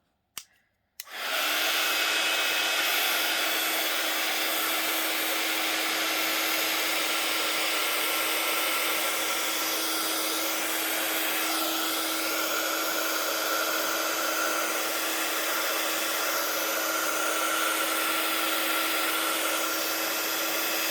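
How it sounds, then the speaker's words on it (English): A heat gun blasts steadily at close range to dry craft paint, a loud continuous whooshing roar with a constant electric hum that starts abruptly after a brief click and runs without a break. "I'm going to use the heat gun."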